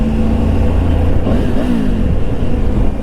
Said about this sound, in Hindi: ये जो आवाज़ है वो मुझे ऐसे लगता है सिंगल सिलेंडर बाइक का आवाज़ जैसे आता है